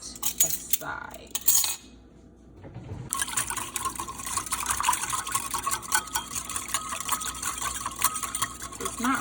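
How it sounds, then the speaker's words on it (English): Tempura batter is whisked in a bowl, with rapid metallic clinking and wet slapping that pause briefly near the start, then run dense and continuous at close range. "And then we're just gonna whisk this together and set it aside."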